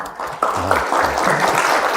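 An audience gathered at a university talk claps in a steady wash of applause, with a low voice murmuring underneath.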